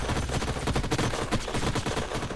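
Dense, rapid gunfire from units in the game Age of Wonders: Planetfall, a loud continuous rattle of overlapping shots filling the whole moment with no speech.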